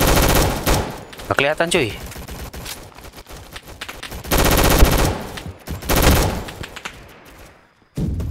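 Gunfire in a Roblox first-person shooter game: loud, sharp bursts of automatic shots come in several clusters with short gaps between them, while a player talks over the action.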